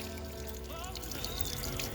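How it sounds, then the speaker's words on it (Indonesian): Goalkeeper gloves rinsed under a running tap, water splashing and pouring steadily at close range with a faint trickling texture, no voices. "Jadi kita siram dengan air mengalir, kemudian kita remas, kemudian kita bilas lagi."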